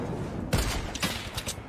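A burst of loud gunfire in the video game Fortnite, several sharp shots in quick succession over dense, noisy background.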